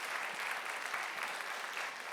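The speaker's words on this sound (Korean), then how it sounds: "우리 친구들에게 한번 격려와 위로의 박수 한번 주시겠습니다." Applause from a church congregation for a high school worship team at an early-morning dawn prayer service with children, steady and dense throughout, fairly faint and distant, with no talk over it.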